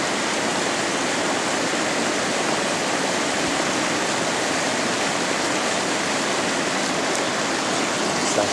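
Steady, full rushing of flowing river water in Romania fills the scene, a dense constant roar without pauses or voices.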